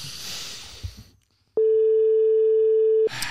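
One long, steady ringback tone on a telephone call sounds clearly and loudly for about a second and a half, following a short quiet stretch.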